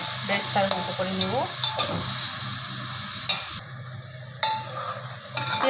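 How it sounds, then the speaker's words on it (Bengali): Onions frying with salt in a pan while being stirred: steady close sizzle with intermittent scraping and clatter of a utensil against the pan, a faint voice briefly underneath. "আমি লবণ দিয়ে এটাকে কিছুক্ষণ নাড়াচাড়া করবো, বেরেস্তার মতো করে নেব।"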